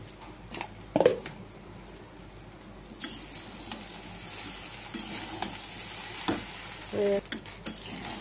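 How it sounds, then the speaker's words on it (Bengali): Flattened rice (chira) frying in a pan with a little sugar, stirred slowly with scraping strokes over a soft steady sizzle, with a few sharper clanks of utensil on pan. "এইভাবে আমি চিড়াটাকে আস্তে আস্তে ভেজে নেবো। এর সঙ্গে অল্প করে একটু চিনি দিয়ে দিলাম, দিয়ে এবার নেড়ে চেড়ে নামিয়ে দেবো আমি।"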